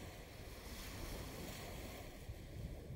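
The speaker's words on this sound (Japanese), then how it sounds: "青い海と青い空、波の音、心地のいい空間。" Ocean waves wash steadily beneath a blue sky, a soft, continuous surf rush mixed with light wind, with no voices.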